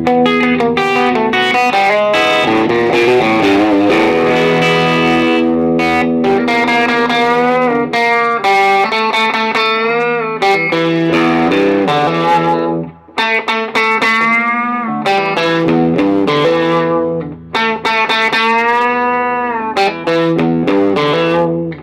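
Electric guitar played through a Fender '68 Custom Deluxe Reverb on its vintage channel, a run of strummed chords and sustained notes with reverb, loud and alone.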